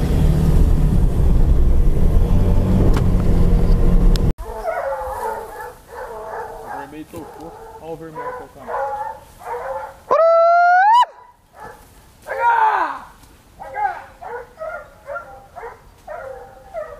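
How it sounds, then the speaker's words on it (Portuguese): A boar-hunting dog yips and whines in quick, repeated bursts close by, with a rising squeal and rumbling pickup truck engine noise at the start. "O cachorro tá meio ansioso ainda."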